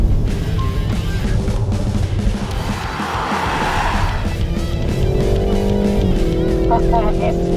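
A Proton S70 car driven hard at high speed on a track, its engine roaring and shifting pitch with tyre noise, loud and close throughout, with a voice speaking over part of it.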